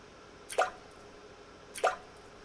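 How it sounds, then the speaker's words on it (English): Two single water drops fall about a second apart, each a crisp, fairly close plop against a quiet background. "Drip, drip. The sound of falling drops."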